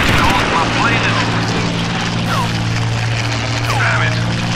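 A propeller warplane engine in the WWII flight game Combat Wings: Battle of Britain hums loudly and steadily, with faint sweeping whines and talk layered over the drone.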